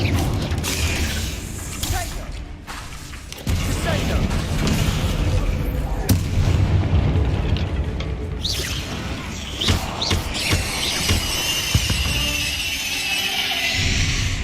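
Spell blasts and combat effects in the Hogwarts Legacy video game, a dense run of booms, bangs and crackling impacts over game music, with a voice talking through it.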